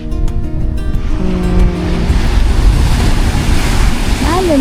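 Rough surf churns and crashes steadily onto a beach in Zambales, a loud continuous wash of breaking waves with gusty wind rumbling across the microphone and no speech.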